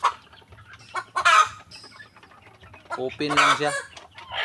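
Chickens cluck loudly and close by in a backyard coop area, with sharp squawky bursts between quieter stretches and a brief spoken remark mixed in.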